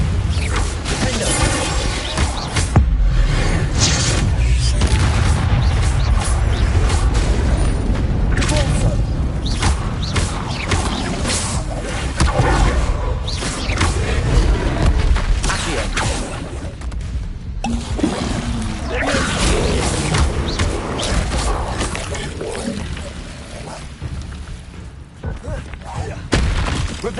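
Bombarda blasting spell explosions from Hogwarts Legacy, repeated heavy booms and crashes in a busy combat mix, loud and near, with occasional game voices.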